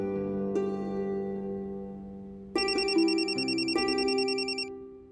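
A telephone gives an electronic warbling ring that starts partway through and repeats in a clear, fairly loud trill over a steady tonal background.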